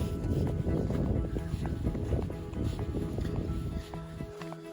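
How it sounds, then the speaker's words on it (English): Heavy wind buffets the microphone in a constant rumbling roar, with scattered knocks and clatter underneath. "It's a bit windy right now, so there'll be a bit of wind in the footage"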